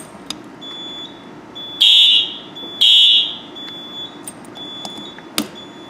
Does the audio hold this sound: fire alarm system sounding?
yes